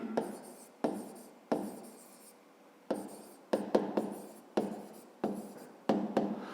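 A pen writes by hand on paper while working a fifth-grade maths exercise, a series of short scratchy strokes in quick irregular bursts, close and fairly quiet.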